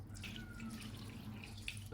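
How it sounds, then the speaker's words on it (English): Sauce poured into a container of homemade Japanese pickled ginger (gari), a steady soft liquid trickle and splash running close and continuous for two seconds, with no talking. "now I'm gonna pour this sauce in here"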